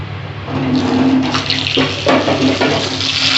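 Potatoes frying in hot oil with salt and turmeric, a steady loud sizzle and crackle with a low hum, continuous and close throughout.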